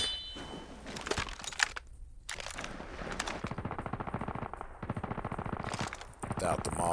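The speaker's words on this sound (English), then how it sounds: "Without the mods on my KRM, that shot would kill him in one shot. I had to take 2 shots" KRM shotgun blasts in Call of Duty Mobile ring out among sharp in-game gunfire, with rapid repeated shots and metallic clanks. A player talks over the action.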